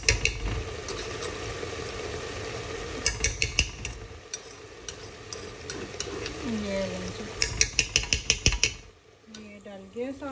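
Pounded spices being fried and stirred into a mutton stew in a pot, with a steady sizzle under repeated spoon scrapes and clinks against the pan, clattering louder toward the end; a voice briefly speaks in the background.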